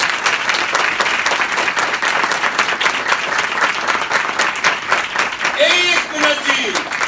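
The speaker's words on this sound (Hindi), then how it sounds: "अपने मुनज्जी, अपने निजात दहिंदा के लिए भरपूर तालियां बजाएं" A church congregation applauds at a Christmas-season service, sustained dense clapping at a steady level throughout, with voices heard over it.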